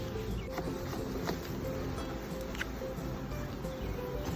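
Honey bees around an open hive drone in a steady, dense buzz that stays close and continuous throughout, with no talk.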